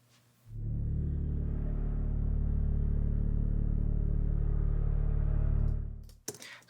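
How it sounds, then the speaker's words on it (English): Quiet low organ drone from Spitfire Labs in Logic Pro, a dense sustained rumbling tone that fades in after a brief pause, holds steady for several seconds, then cuts off abruptly. "it's an organ drone that I put in the interludes to add some weight to this."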